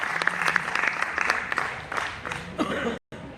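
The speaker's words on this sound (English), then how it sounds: "Let's give a round of applause, please" A burst of applause from a small seminar audience, dense clapping for a few seconds before cutting off abruptly.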